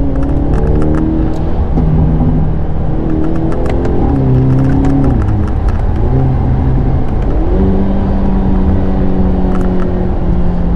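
A 2023 Hyundai Elantra N with a dual-clutch gearbox accelerates hard, its engine note climbing and dropping in quick stepped shifts, loud and close, with no talking.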